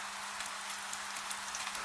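Soft, steady rain pattering on a tile roof at night in an old Edo town, a continuous gentle hiss with faint scattered drops, even in level and free of voices.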